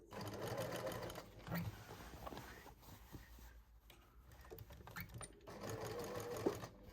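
A sewing machine runs in bursts, stitching a patch over a knee hole in jeans, its fast rhythmic needle chatter rising and pausing, with a person talking quietly between and during the runs.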